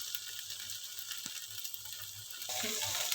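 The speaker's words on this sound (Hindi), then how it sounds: "भून के जब इसका घी इसके ऊपर आ जाएगा ना सेवइयों का, घी छोड़ देंगे" Dry vermicelli (seviyan) roasting in ghee in a pan for sweet meethi seviyan gives a steady close sizzle with faint scraping and clicking, growing a little louder near the end, with no talking.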